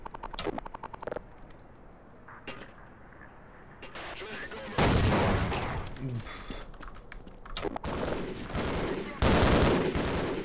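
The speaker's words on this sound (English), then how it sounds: "I will shoot you to death." Gunfire in the Half-Life video game against tanks and aliens, with rapid clattering bursts of shots, some loud and close, mixed with sharp clicks and bangs.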